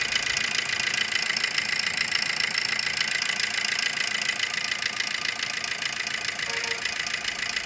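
A 2008 Maruti Swift VDi diesel car engine idling with a steady, even clatter and hum, close and continuous with no pauses.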